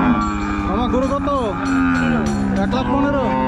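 Several cows moo loudly and close by at a Qurbani cattle market in Keraniganj, with long, rising and falling calls that overlap and a busy crowd murmuring underneath.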